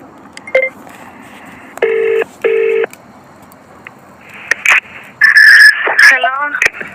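Phone call being dialed: two long electronic dial tones in a row, then a burst of mixed electronic tones and chirps, with people talking faintly in the background.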